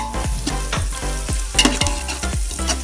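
Garlic sautéed in a pan, stirred until browning, with a close steady sizzle and a regular rhythm of spoon scrapes and taps against the pan, about four per second.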